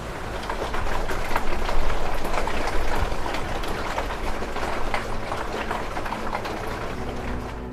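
Heavy storm water pours down inside Old Trafford football stadium during a downpour, a loud, steady broadband rush with splashing and no break, close and continuous throughout.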